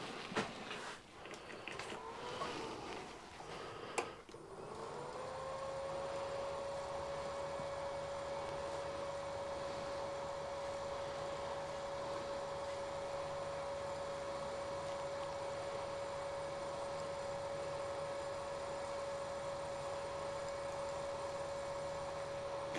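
An ordinary drill chuck spins a special helicoil insert tap into a fuel filter housing, giving a steady close whirring drone that runs without a break for most of the clip after a few brief knocks and shuffles at the start.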